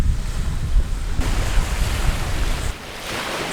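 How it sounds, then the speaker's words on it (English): Ocean waves wash onto a beach in a continuous rushing surf, loud and close, mixed with gusty wind noise against the microphone. "This is a beautiful beach"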